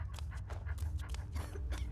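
A dog panting in Skyrim, a steady run of quick, soft breathy pants close by and low in level, with no talking over it.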